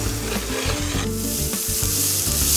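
Chopped red onion frying in a pan beside bacon, a dense, steady sizzle with continuous stirring and scraping, loud and close throughout, no voices.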